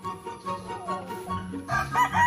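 Fighting cock roosters on a mountain game farm crow and call amid a busy, layered background of several birds nearby, with overlapping calls and no clear talk.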